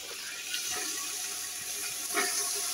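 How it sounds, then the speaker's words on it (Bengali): Boiled mutton and its broth poured into sizzling fried spices in a pan over a wood fire, giving a continuous close pouring and hissing splash. "এবার এই কষানোর মধ্যে আমি মাটন সেদ্ধ করাটা এখানে দিয়ে দিচ্ছি।"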